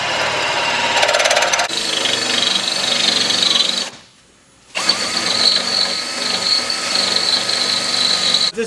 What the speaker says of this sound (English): At this point right here, we're just drilling into the frame.